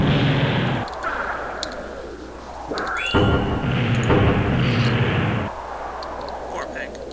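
A large explosion set off with a powerful tool in Minecraft modded with Equivalent Exchange, a loud booming burst with crackling debris that swells and holds for a few seconds before dropping, with a voice talking over it.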